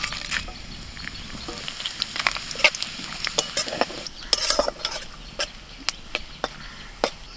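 Whole spices, including dried red chillies, bay leaves, cardamom, cinnamon, cloves and cumin seeds, hit hot oil and crackle with sharp, irregular pops over a soft sizzle, close by and with no speech.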